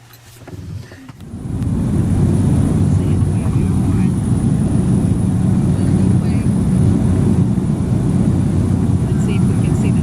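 A small propeller plane's engine roars steadily and loudly up close on a flight from Botswana to Zambia, after a brief quieter start, a constant low drone filling the cabin.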